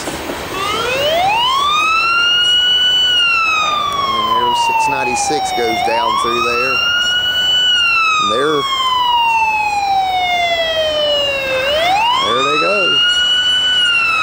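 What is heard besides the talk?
ambulance siren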